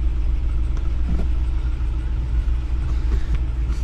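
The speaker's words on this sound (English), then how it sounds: "I imagine both wheels are just spinning because I think that one might be on ice" A Ram 2500 Power Wagon on ice with its wheels spinning: a steady, loud low rumble of the engine and tires churning in place, continuous throughout with no talking.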